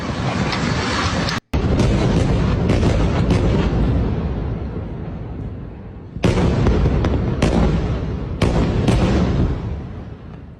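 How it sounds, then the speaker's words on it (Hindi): Heavy bombing explosions in Gaza roll on loud and near, with continuous dense blasts and crackling bursts, a brief gap and several fresh sharp impacts toward the end. No speech. "लगातार बमबारी की आवाज भी सुनाई दे रही है"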